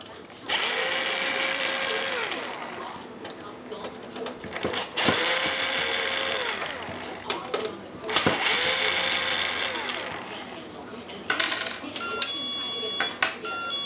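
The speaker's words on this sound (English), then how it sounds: "I'm going to take out these four screws right here." A power screwdriver backs screws out of a Samsung DLP TV, whirring in several long close bursts separated by brief pauses and clicks, with a voice talking over it.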